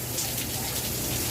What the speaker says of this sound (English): Oh my God, this is a huge thunderstorm.